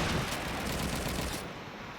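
Dense, continuous gunfire from a sniper-rifle scope battle in Call of Duty 2 fills the first second and a half, then drops abruptly to a quieter, muffled tail.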